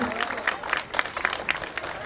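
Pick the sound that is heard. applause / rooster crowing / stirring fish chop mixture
applause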